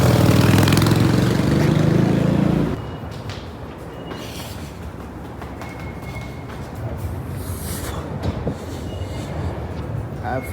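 Underground metro train at a Japanese subway station, running beneath the road: a loud, close rumble for the first few seconds that drops to a steadier, quieter rolling roar of the cars and station noise.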